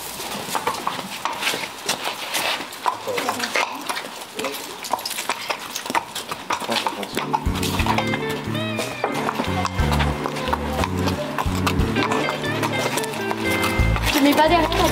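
A mare is led out of her stall for a mane trim, her hooves clopping at a steady walking pace nearby, while people talk and music joins partway through.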